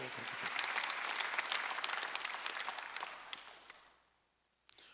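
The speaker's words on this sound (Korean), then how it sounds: "박수 한번 주세요" A church congregation at a Sunday worship service breaks into applause, a dense wash of clapping that holds for about four seconds, then fades out, leaving near silence broken by a couple of isolated claps.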